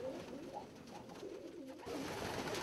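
Fancy pigeons, including a double-crested Saxon priest, coo softly in a loft or show setting, with low murmuring calls layered over one another and a steady background of other birds.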